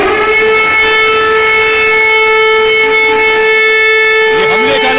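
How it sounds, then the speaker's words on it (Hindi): An air raid warning siren wails loud and steady, a sustained tone holding for several seconds without a break. "देखिए ये है इसका सायरन, सुनिए।"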